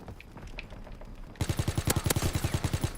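Rapid bursts of automatic gunfire in a first-person shooter, a loud string of about a dozen sharp shots in quick rhythm that erupts after a quieter stretch of ambient game noise.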